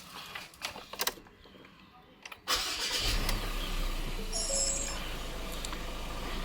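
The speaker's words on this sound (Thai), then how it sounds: "เดี๋ยวผมจะสตาร์ทรถให้ดูนะครับ" A 2021 Ford Ranger XLT four-door pickup starts up after a few clicks and a brief pause. The engine catches with a loud surge and then settles into a steady idle rumble close by.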